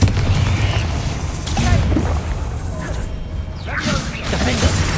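Confringo fire spell blasts in the video game Hogwarts Legacy: repeated booming impacts with whooshing bursts and crackling crashes, loud and close, two or three distinct hits amid battle noise, with a voice shouting spells.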